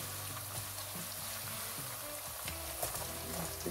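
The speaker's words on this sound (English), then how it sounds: "Yes, we'll stir our onion." Onion frying in a pot as the base for a broccoli stew, giving a steady close sizzle with occasional soft stirring scrapes, no voices.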